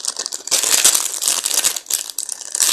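Wrapping on a Secret Santa gift package crinkled and rustled as it is opened, a loud close crackle of handled paper or plastic with brief gaps and no speech.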